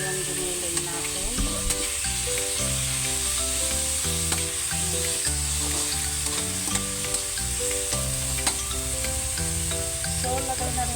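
Ground meat sizzles and fries steadily in a pan, a loud continuous crackling hiss with stirring, close up and dominant throughout.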